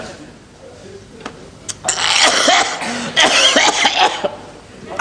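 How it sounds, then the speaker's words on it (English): A man coughing and spluttering after knocking back a strong drink in one gulp, a few sharp harsh bursts crowded into two seconds, close and loud after a quiet start. "Oh, don't cough"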